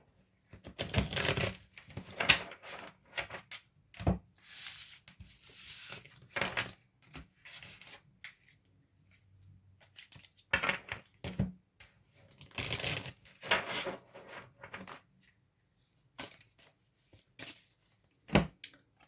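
Tarot cards are shuffled by hand in irregular bursts of crisp riffling and slapping, separated by short quiet gaps, close and fairly soft.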